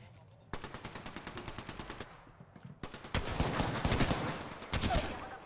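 Rapid automatic gunfire in the shooter game Apex Legends, bursts of rattling shots close and loud, pausing briefly then resuming heavier and denser toward the end.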